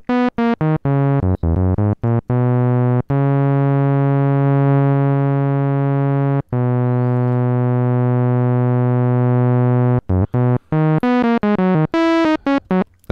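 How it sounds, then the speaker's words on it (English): Korg ARP 2600M synthesizer with its ADSR envelope controlling the amplifier, playing loud buzzy harmonic tones: a run of short stepped notes, a long sustained note, then more quick staccato notes, with no voice. "right now I have the ADSR controlling the amp"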